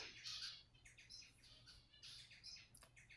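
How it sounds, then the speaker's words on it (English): Pet birds in a home give repeated sharp squawks and chirps in short bursts, fairly close and moderately loud over a low steady background hum. "I separated my birds"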